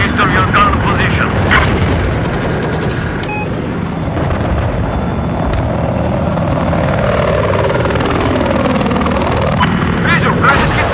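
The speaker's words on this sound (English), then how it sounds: "Enemy helicopter east of your gun position." Battlefield 4 game audio with an enemy helicopter's continuous rotor and engine drone sweeping in pitch, while explosions and gunfire crack through and voices talk over the battle.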